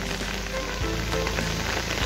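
Steady rain falls during a monsoon-season outing in the hills near a temple, a dense continuous patter with a few louder drops, close by and with no talking.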